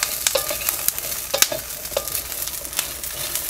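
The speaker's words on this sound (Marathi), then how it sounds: "एकाच मिनिटासाठी ना आपल्याला चांगलंसं हे परतून घ्यायचं" Garlic sautéing in a hot pan for a peanut chutney, a steady close sizzle and frying crackle broken by scraping stirs and sharp ticks of the spatula against the pan, with no talking.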